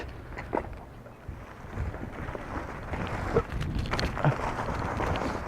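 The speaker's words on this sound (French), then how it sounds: "Il y a beaucoup de vent" Gusty wind during a mountain bike ride buffets the microphone with a low, rumbling roar that rises and falls, growing stronger toward the end.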